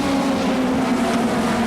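Pro-4 Modified race cars running bumper to bumper down the straightaway at Waterford Speedbowl, a loud steady engine roar with a strong low drone held throughout.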